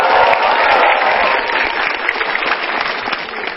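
Sustained applause from a stand-up comedy audience on MetroTV for comedian Hifzi: a thick, even roar of many hands clapping, loud from start to finish, with some crowd voices blended in.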